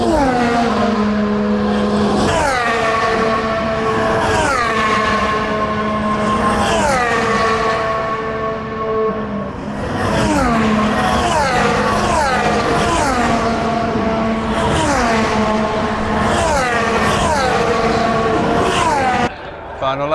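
Formula 1 race cars scream past on the final lap of the British Grand Prix at Silverstone, loud high-revving engines rising and falling in repeated passes with downshifts, heard from the trackside crowd.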